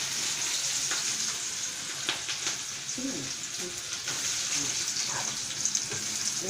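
Onions sizzling in a hot pan in a home kitchen, a steady close crackling hiss with occasional louder spits and a few stirring scrapes, carrying on without pause for several seconds.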